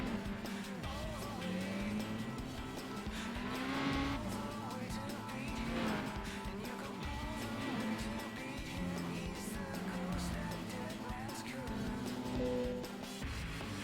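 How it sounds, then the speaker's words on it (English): Race cars in the Gran Turismo 4 video game roar around the track while lapping slower Mazdas, engines rising and falling through gear changes as cars pass, a steady mid-level drone with no talk. "We finally lapped one of the Mazdas for the first time."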